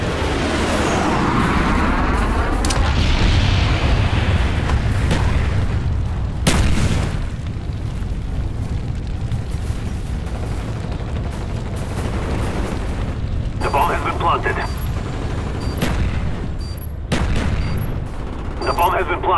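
Napalm strike explosions in the multiplayer video game Call of Duty Black Ops, hardcore demolition mode on PC: heavy booming blasts and rumbling detonations, with sharper hits around the middle and gunfire mixed in, loud and sustained, alongside in-game voice announcements.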